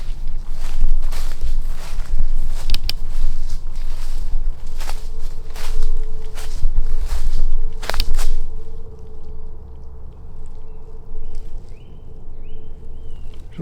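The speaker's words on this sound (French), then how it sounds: "On va s'enfoncer un peu dans les bois." Footsteps crunch and rustle through forest undergrowth at a walking pace, with occasional sharp snaps and a faint distant hum.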